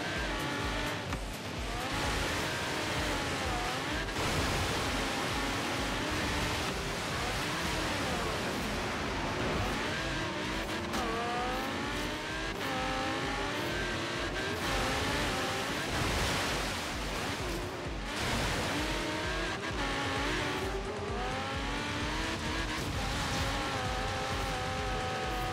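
Audi R8 V10 5.2 in the racing game Forza Horizon 3 speeding through water and sand, a loud continuous engine drone with rising and falling gear shifts over splashing surf-like noise throughout.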